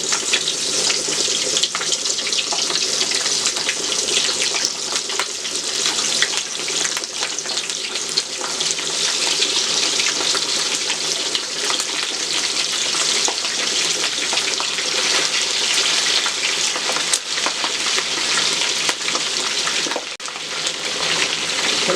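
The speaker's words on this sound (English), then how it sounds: "I can start putting my tails in there. And I'm going to deep fry them." Turkey tails deep fry in hot oil on medium heat, a continuous loud hiss and crackle of bubbling fat that runs steadily for over twenty seconds, with no talk.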